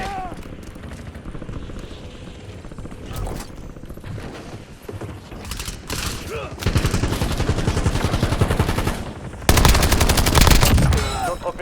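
Video game shooter battle with rapid machine-gun bursts and single shots, growing louder and denser toward the end, mixed with game voices and effects.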